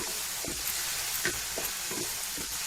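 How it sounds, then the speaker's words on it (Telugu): Onion and tomato masala paste fries in oil for a chole curry, with a steady close sizzle and several soft rhythmic scrapes and stirs of a spoon through the thick paste, without any talking. "ఉల్లిపాయ టమాటా పేస్ట్ మంచి స్మెల్ కూడా వస్తుందండి ఇది ఫ్రై అయిన కొద్దీ"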